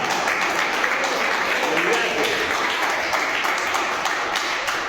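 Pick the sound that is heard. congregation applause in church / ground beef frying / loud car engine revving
congregation applause in church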